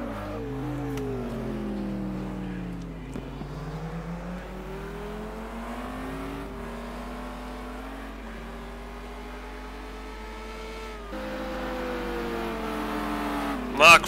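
Simulated GT race cars in a sim racing game lap the East London circuit in South Africa, their engine notes whining continuously and climbing through the gears, then dropping and rising again as they run the back straight and final corner.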